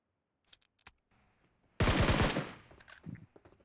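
Shooter video game gunfire: a few faint, sparse clicks and shots, then a loud burst of rapid tap shots lasting about half a second with a decaying tail, followed by scattered quieter game noises.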